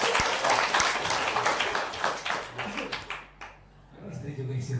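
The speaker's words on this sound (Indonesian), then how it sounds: "Tepuk tangan dong" Loud audience applause breaks out during a religious talk about paying off debts, with dense clapping that fills the first few seconds and then fades away, followed by voices.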